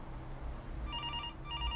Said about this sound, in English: I woke up suddenly. That sound... The phone.